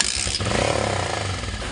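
Motorcycle engine with a faulty carburetor runs close and loud, its uneven revving rising, then settling into a rough, pulsing idle.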